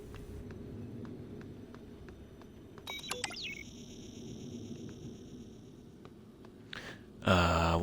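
Electronic beeping in the video game Prey: a quick cluster of bright, chirpy beeps with a falling tone rises over a low ambient hum, followed by a few more electronic tones.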